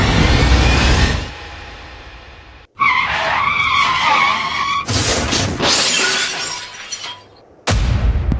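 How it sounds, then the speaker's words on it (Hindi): A car skids with a long tire screech, then a hard crash with shattering glass, followed by more loud skidding and impact noise, close and intense with brief silent gaps between bursts. "मैंने अभी किसी को गाड़ी ठोक दी"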